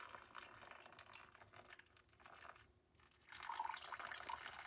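Water pours into a cotton sock coffee filter in a soft faint trickle that pauses briefly and then returns as a brighter, splashier stream.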